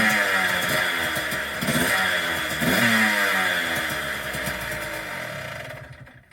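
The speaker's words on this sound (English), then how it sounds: "And that's how you start a dirt bike with a kickstart." A kickstarted dirt bike engine runs and revs, rising and falling in several throttle blips over a steady mechanical rumble, close and loud, fading out at the end.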